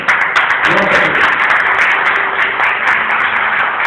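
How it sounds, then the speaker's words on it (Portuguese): A church congregation fills the room with dense, continuous applause that stays at a steady roar, while a voice speaks over it. "a salva de palmas para o resto"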